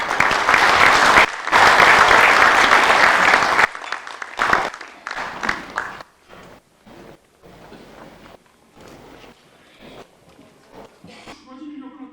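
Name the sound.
applause at anniversary ceremony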